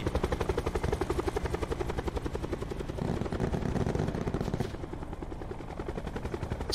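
A video game helicopter's rotor thumps in a steady fast chop while gunfire rattles against it, loud and continuous throughout, with no talking.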